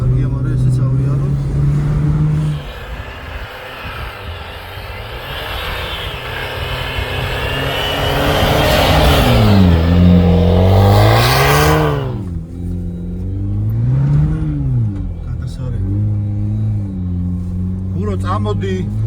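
An off-road car engine drones loudly while driving rough tracks in Khevsureti. It rises and falls through repeated revs as the driver works the throttle, and people talk over the engine noise.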